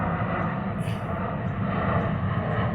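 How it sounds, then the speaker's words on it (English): An airplane passes overhead, its engine drone a steady broadband rumble heard outdoors, sustained and moderately loud across the whole span. "By the time that plane goes over,"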